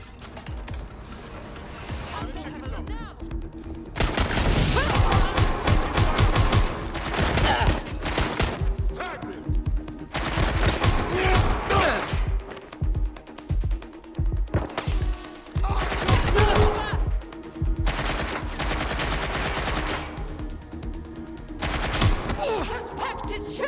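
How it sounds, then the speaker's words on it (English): Sustained gunfire from a shootout in the video game Watch Dogs Legion: rapid bursts and volleys of shots, loud and close, with booms and thuds, broken by short lulls between heavy stretches. "Suspect is shooting!"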